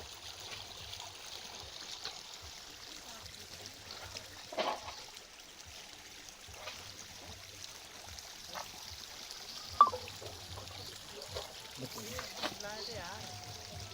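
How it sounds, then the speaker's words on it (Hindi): Water mixed with root-rot medicine solution trickles and pours into a hole at the root of a six-to-seven-year-old apple tree outdoors, a soft continuous flow with occasional splashes and faint background sounds. "मैं 15 लीटर पानी या दवाई बोलिए उसको ला के डाल रहा हूँ अंदर का"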